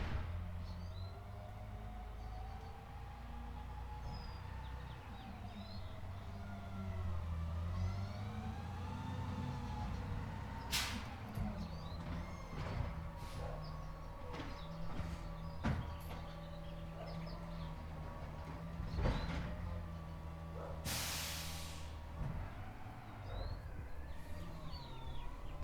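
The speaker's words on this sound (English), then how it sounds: "Garbage truck ASMR" A garbage truck collecting trash on a residential street: a continuous engine rumble with whining hydraulic tones and occasional clanks and bangs, heard from indoors at moderate distance, with birds faintly in the background and no talk.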